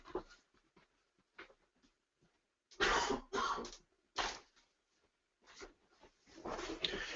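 Several short, harsh coughs and throat-clearing bursts, fairly close, separated by quiet pauses, with a longer cluster near the end.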